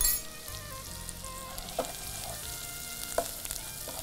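Chilli paste with coriander and chilli powders frying in a pan over medium heat, a soft continuous sizzle with a couple of spoon taps against the pan, no speech.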